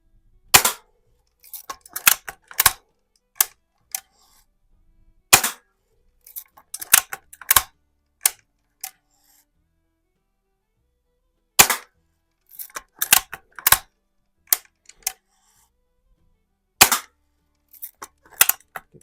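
A 1977 Daisy 1894 BB rifle, freshly repaired, fires repeatedly at a can, giving sharp, close cracks in quick clusters of two to four with short silent gaps between bursts.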